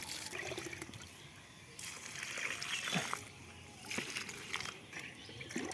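Water pours from a bucket onto a growing garden plant, a rushing splash and trickle that swells and falls in several bursts across the whole stretch, fairly close, with no talk.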